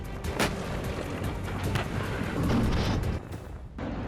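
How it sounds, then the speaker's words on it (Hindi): Missiles strike at night over Yemen's capital, producing a continuous deep rumble of distant blasts and booming explosions that swells and fades with one sharp crack early on. "रात के वक्त आसमान से गिरती मिसाइलें, शोलों की शक्ल में बरसता बारूद, हर तरफ आग का गुबार, कलेजे को चीर देने वाली आवाज।"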